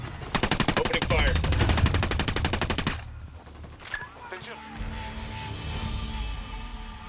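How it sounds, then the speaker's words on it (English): Automatic gunfire in Ghost Recon Wildlands, a loud rapid burst of evenly spaced shots for about three seconds, then quieter scattered shots and ambient battle noise. "Opening fire."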